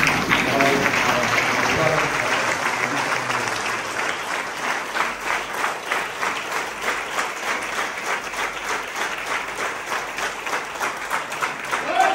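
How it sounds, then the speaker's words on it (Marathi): A large standing audience applauds loudly and at length at a milestone birthday celebration honouring a national kirtan performer, dense clapping in a steady wash that settles into a rhythmic beat. "सगळ्यांनी उभं राहून परत एकदा खूप मोठ्या प्रमाणे टाळ्या वाजवून"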